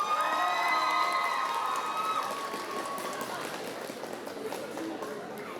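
A crowd at a cosplay contest claps and cheers for a Lethal Company cosplayer, a dense wash of applause that swells at first and then slowly fades, with a few voices mixed in.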